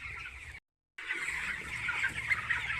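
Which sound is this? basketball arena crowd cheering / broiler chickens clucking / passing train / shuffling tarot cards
broiler chickens clucking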